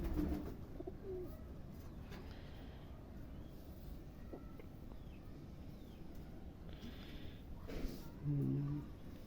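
A pigeon coos in short, soft bursts at close range, the low calls coming a few times with gaps between them amid quiet room noise.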